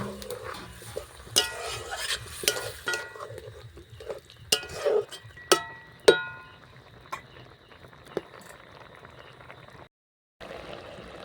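Drumstick flowers with soybean and milk stirred in a pan: a series of sharp spoon knocks and scrapes against the metal over a soft bubbling simmer, ending in a brief silence.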